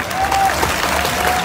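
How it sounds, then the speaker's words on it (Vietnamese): A crowd claps for a team at a Vietnamese dance gameshow, dense loud applause filling the whole moment with a faint tone and murmur beneath. "Bây giờ vỗ tay lần nữa nha"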